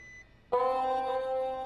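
After a brief quiet, a phone starts ringing with a sudden, loud, sustained electronic tone that holds steady in an indoor room.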